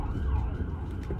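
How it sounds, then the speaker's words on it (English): An ambulance siren wails as it speeds through a red light at a city intersection, heard from inside a car over the steady rumble of road and engine noise. "ambulance driving fast as fuck through the red light"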